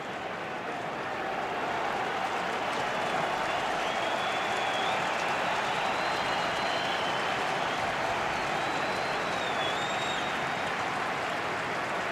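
Steady roar of a large stadium crowd cheering at a Yankees versus Red Sox AL Wild Card playoff baseball game, a dense sustained wash of voices and applause holding loud throughout with a faint whistle rising above it.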